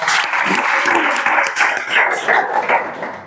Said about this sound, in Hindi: जोरदार ताली बजावा